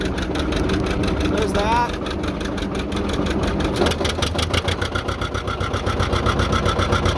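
A John Deere 830 Industrial tractor engine idles close by with a loud, steady, pulsing chug throughout, while someone speaks briefly over it.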